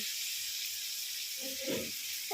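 Whole lote (Bombay duck) fish frying in oil give a steady hiss and sizzle, with a slightly louder bubbling crackle near the end; fairly quiet, close by, with no talking.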